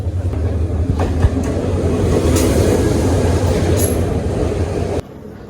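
A train pulls into Sylhet station, its loud, continuous rumble of wheels and wagons rolling steadily close by, with faint squeals and clacks, before the noise cuts out abruptly near the end.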